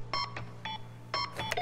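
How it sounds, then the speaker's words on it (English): Electronic beeping from the video game Call of Duty: Modern Warfare II: several short tonal beeps in uneven pairs, fairly loud and clear over a steady low hum. "Just wait till it start beeping fast."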